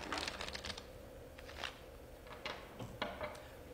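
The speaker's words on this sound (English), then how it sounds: "Shuffle these cards." Playing cards are shuffled in several quick riffling bursts, close and fairly quiet, with brief pauses between them, for a card draw at a duckpin bowling game.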